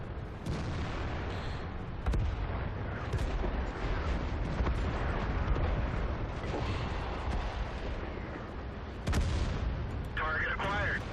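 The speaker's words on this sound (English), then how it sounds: "Dropping some artillery." Artillery strike explosions in the World of Tanks video game, Domination mode: a dense, continuous barrage of loud booming rumbles and sharp blasts, with a brief voice near the end.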